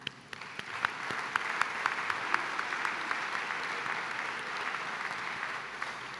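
A gala audience claps steadily in dense, sustained applause for benefactors from start to finish, with no voices standing out.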